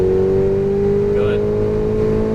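A Ferrari 488 GTB at full throttle on a track, a loud sustained engine drone with a strong steady tone that climbs slightly in pitch, heard close from inside the car.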